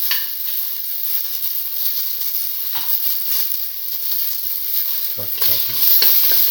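Tomato pieces sauté in a pan with a loud, continuous hissing sizzle, interrupted by brief stirring scrapes near the start and the end.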